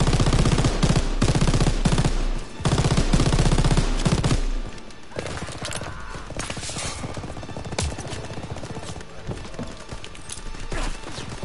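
Heavy machine gun fire in the World War II shooter Call of Duty WW2, loud sustained bursts for the first four seconds, then quieter scattered gunfire and battle noise continuing.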